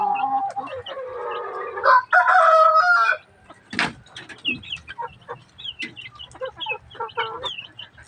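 Chickens and chicks on a small backyard farm cluck and call while feeding, with a loud close crow-like call early on, followed by short, scattered peeps and clucks; no speech.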